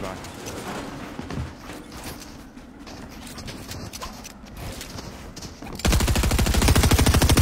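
Rapid automatic gunfire from a Fortnite build-mode match erupts in a dense, loud burst near the end, following several seconds of busy game noise and scattered shots.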